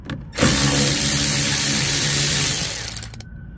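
A power tool backing out running board screws on a BMW X5, a loud close whirring burst lasting about three seconds that starts abruptly, holds steady, then sputters and stops.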